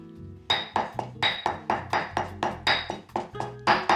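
Steady pounding of a mortar and pestle crushing black pepper, the first hard ingredient of a Thai red curry paste: about a dozen rhythmic clinking thuds, roughly two per second, close and loud with no voices.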